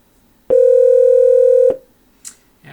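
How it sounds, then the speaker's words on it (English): A telephone ringing on a Raspberry Pi PBX call: one steady electronic ring tone lasting about a second, loud and close, then cut off, followed by a brief faint noise. "it's ringing"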